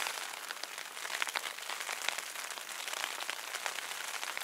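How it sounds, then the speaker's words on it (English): Steady rain patters on a surface all around in the Pemigewasset Wilderness, New Hampshire, a dense hiss of droplets with no voices. "you can hear it it's still raining"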